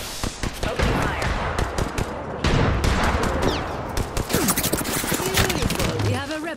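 Dense rapid gunfire crackles nonstop in an Apex Legends match on PS5, with bursts and shots layered loudly over game sound effects and in-game voice lines.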